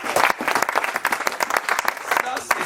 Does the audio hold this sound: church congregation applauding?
yes